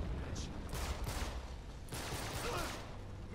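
Rapid bursts of gunfire in the video game Uncharted 3 rattle in short clusters over a busy, noisy background, with a voice speaking partway through.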